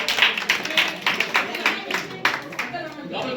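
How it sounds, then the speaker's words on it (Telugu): A church congregation claps together after a skit, a brief rhythmic patter of hands with some voices mixed in. "అందరూ స్కిట్ చేసుకొని చప్పట్లు కొట్టండి"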